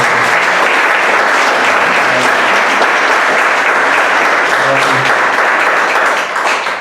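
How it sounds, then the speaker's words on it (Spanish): Loud, close applause fills an academic event honoring a university unit director, a thick unbroken wash of many hands clapping that tapers slightly at the very end. "Aplausos."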